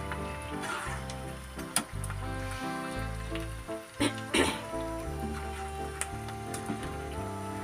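Potato snacks made with rice flour fry in hot oil, giving a steady bubbling sizzle, with a few sharp pops and knocks and a low hum beneath.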